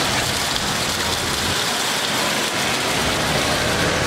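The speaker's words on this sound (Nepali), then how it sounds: "पानी परेर ल्याङ भयो" Heavy rain falls steadily, a loud, dense hiss of drops drumming on surfaces without a break.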